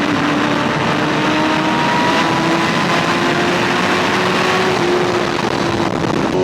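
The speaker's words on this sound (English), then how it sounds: "To capture a little bit of some exhaust audio for the video" A motorcycle's exhaust drones steadily and loudly from close range, holding a fairly even engine note with a slight rise in pitch over several seconds, recorded on a small action camera while riding.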